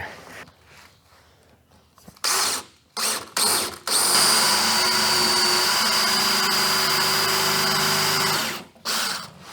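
A power drill gives a few short bursts, then runs loud and steady for about five seconds, winding down before one last brief burst, drilling shank holes in a boat transom.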